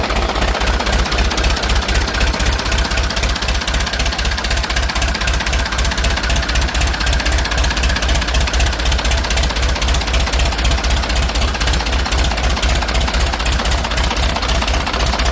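A Ford 6600 tractor engine runs with a loud, steady diesel knock, a rapid even pulse of beats that holds close and unbroken from start to finish, with no one talking.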